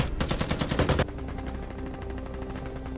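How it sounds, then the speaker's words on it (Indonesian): Rapid machine-gun bursts from enemy fighters in an action film set at sea around a submarine and oil rig, loud repeated shots for the first second, then dropping to a lower, steady rumble of continued firing and noise. "musuh yang melihat sempat melepaskan tembakan"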